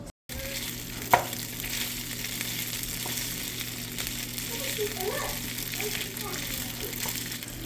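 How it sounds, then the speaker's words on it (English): Chicken fries in a frying pan, giving a steady soft sizzle throughout with a sharp clink near the start and faint background talk or movement later. "fried chicken, sort of like on a frying pan, and rice."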